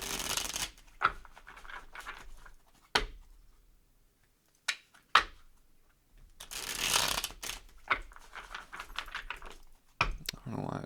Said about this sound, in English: I could shuffle this deck. This deck shuffles nice.